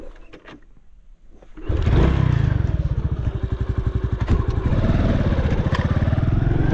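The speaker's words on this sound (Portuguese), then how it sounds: "Vou subir aqui na moto aqui." A motorcycle engine starts up after a quiet moment and runs loud and close beside the São Francisco transposition canal in Paraíba, its steady throb rising slightly as the bike gets moving.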